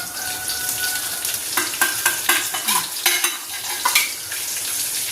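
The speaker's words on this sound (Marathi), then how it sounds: "आपल्याला मसाला टाकीते परतून घ्यायचं आहे" Spice masala of turmeric, black masala, red chili and coriander powder sautéing in a pan for a Pandharpur-style amti, with a steady sizzle and a run of scraping stir strokes in the middle.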